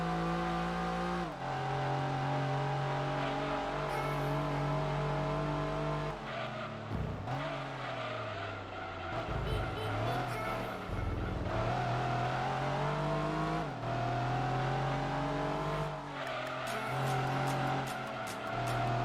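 Race car lapping a circuit in the PS1 game Gran Turismo 2, with a loud, continuous engine drone that rises and falls through gear changes and occasional tire squeal, heard alone.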